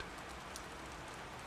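Steady, even rainfall hisses without a break, a soft continuous wash of drops with no voices.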